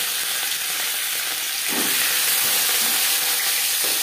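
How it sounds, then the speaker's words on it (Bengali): Rui fish pieces frying in hot refined oil in a pan, a steady loud sizzle and crackle running throughout, with no voices. "4-5 চামচ রিফাইন্ড অয়েল গরম করে নিয়েছি। দিয়ে দিলাম মাছ।"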